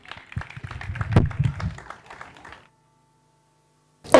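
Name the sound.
audience applause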